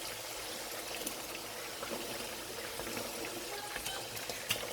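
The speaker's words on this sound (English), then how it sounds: "So I'm going to pour this in." Thick, rich red pepper stew base poured into a cooking pot for Nigerian party jollof rice, a steady close liquid pour and trickle with small splashes running throughout, no talking.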